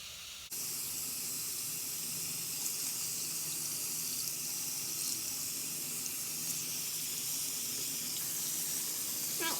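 A kitchen or bathroom tap turns on and runs in a steady, quiet hiss of water as bleach is rinsed off a hair closure down the drain. The flow continues unbroken to the end, with no voices.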